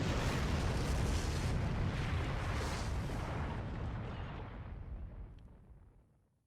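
A shell bursts in a visual novel with a heavy, grenade-launcher-like blast, a loud broadband roar that starts at full strength and slowly fades away over several seconds.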